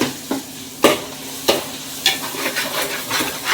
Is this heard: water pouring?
no